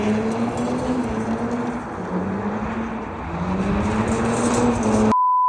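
Lexus IS300 with a limited-slip differential spinning donuts, a steady loud engine drone with wavering pitch and tire noise, continuous and close, cutting off abruptly at the end.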